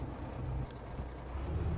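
An old milk truck in Farming Simulator 22 gives a short air brake hiss over a low idling diesel rumble, a single release heard faintly and alone.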